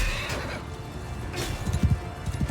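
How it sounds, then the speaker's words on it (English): Horses whinny and neigh over a dense, rumbling backdrop of hooves and battle noise in Mount & Blade II: Bannerlord, close and loud. "If I can get these horses out of the way."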